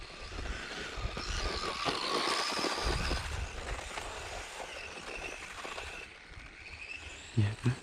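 A Losi Mini T 2.0 two-wheel-drive RC truck driving over bumps, its small motor giving a steady whining buzz close by, with a couple of sharp thumps near the end.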